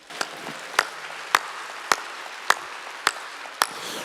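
A church congregation at a Wednesday worship service claps in unison: sharp, evenly spaced single claps about every half second, steady and moderately loud over a quiet room.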